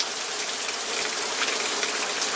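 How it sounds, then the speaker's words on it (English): Steady rain pours down during a muskie fishing trip in Canada, a dense, even hiss of drops hitting surfaces with no letup and no voices. "it's been raining straight since about 1:30 this afternoon"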